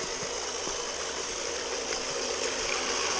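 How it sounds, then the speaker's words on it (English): Steady rushing water runs continuously, a broad hiss-like flow with occasional faint clicks underneath, loud and close with no voices. "Water."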